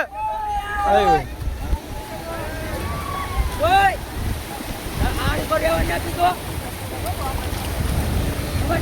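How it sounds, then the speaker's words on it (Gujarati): Sea waves wash ashore during a Ganesh immersion outing at a beach, a continuous roar of surf and wind noise heard beneath excited talking voices. "જોવો જો આ રીતના કંઈક દરિયાના મોજા આવે છે"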